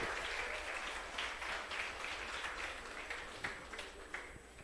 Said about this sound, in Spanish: un aplauso a estos chicos, por favor